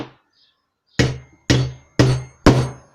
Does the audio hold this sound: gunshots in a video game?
no